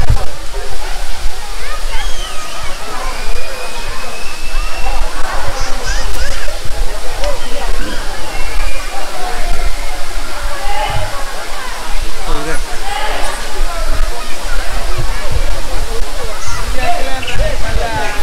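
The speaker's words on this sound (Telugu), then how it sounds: "ఇదే మన పెంచలకోన వాటర్ ఫాల్స్." Penchalakona waterfall, a loud continuous rush of falling water heard close by, with splashing throughout and people talking over it.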